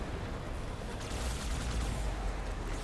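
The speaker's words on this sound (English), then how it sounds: "oh he's shooting a hole in it" Rapid gunfire in Halo 2 Anniversary, a dense continuous burst of shots with a low rumble beneath, steady and fairly faint without pauses.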